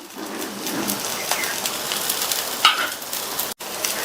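Adai batter frying in a pan with a little oil drizzled around it after being flipped, giving a steady close hiss and crackle that runs throughout, with a brief clatter partway through.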